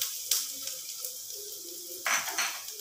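Chopped ginger and garlic hit hot oil in a pan, giving a sudden bright sizzle followed by a steady hiss that swells again near the end, close and fairly loud, with faint utensil clatter.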